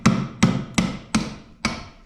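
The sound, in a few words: hammer tapping part on a drill press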